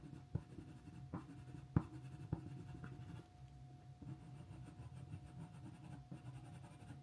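A silver grey Luminance coloured pencil shades fur on paper, giving soft scratchy strokes with a few sharper taps in the first half, then a steady quiet rasp.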